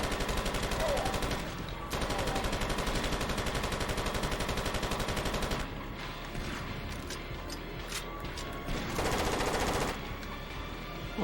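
Sustained automatic gunfire from the video game Far Cry Instincts, rapid bursts rattling almost continuously with brief pauses between volleys, loud and close.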